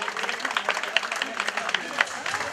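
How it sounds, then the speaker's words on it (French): Applause at a cycling race trophy ceremony, steady scattered clapping from a crowd, moderately distant, with a voice speaking over it. "Ça mérite un tonnerre d'applaudissements, s'il vous plaît"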